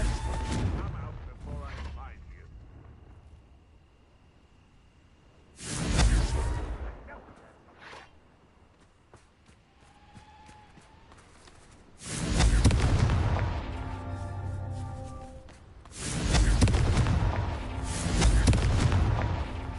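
Blasts from the Confringo fire spell in Hogwarts Legacy: several loud, booming explosions, each with a rumbling tail, separated by quieter stretches of game ambience and a few light mechanical clicks.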